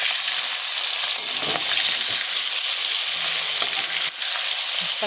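Pangas and tengra fish crackle and hiss as they fry in oil, a close, continuous sizzle with a few soft knocks from turning the pieces.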